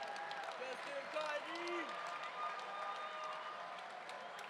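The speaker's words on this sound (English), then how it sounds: "let's have a big round of applause for both of the fighters in this cage." Faint crowd applause and murmur at a professional martial arts cage event, a soft, steady wash of clapping, with an amplified voice heard briefly at the start.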